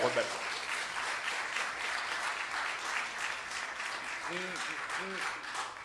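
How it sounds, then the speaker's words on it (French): Church congregation applauding technicians, a steady broad wash of clapping throughout, with a voice speaking briefly near the end. "on gros applaudissement pour eux"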